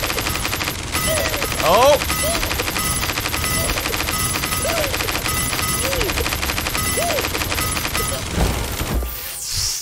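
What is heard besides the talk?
Gatekeeper weapon firing rapidly in a video game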